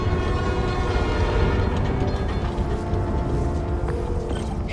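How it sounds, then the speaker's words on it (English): New York subway train in the Spider-Man Miles Morales video game: a loud, continuous rumbling roll of rail cars with mechanical clatter and a droning tonal hum, steady throughout with no voices. "Come on, trusty New York subway."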